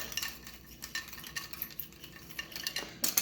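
Coffee cake ingredients are stirred in a bowl by hand, a close run of quick rhythmic scraping and tapping strokes, with no talk.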